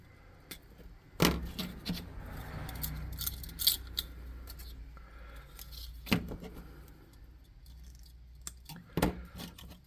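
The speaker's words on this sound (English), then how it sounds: "Oops, let me snip that off." Wire being snipped off with cutters while building a custom tabletop monster model, three sharp isolated snips spaced several seconds apart, close and crisp over quiet handling noise.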